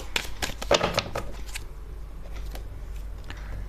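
Tarot cards are shuffled and drawn by hand in a quick flurry of papery flicks and taps, densest at the start and then thinning into sparse soft clicks.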